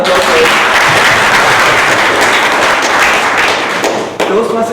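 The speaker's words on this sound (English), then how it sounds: "So really, have a round of applause for it." A loud, dense round of applause from the audience at a Toastmasters club meeting, sustained clapping filling the room evenly before tapering slightly at the end.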